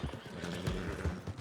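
A horse in Red Dead Redemption 2 gives a short whinny over quick clip-clopping hooves, brief and fairly quiet in the game world.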